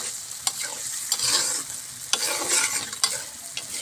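Spices with chili powder and turmeric are stir-fried in a pan: a steady, close sizzle broken by sharp, regular spatula scrapes and taps roughly every half second, with no talking.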